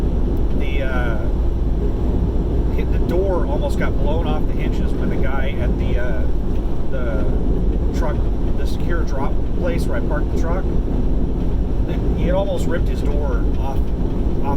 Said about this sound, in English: it is windy as hell in Oklahoma City right now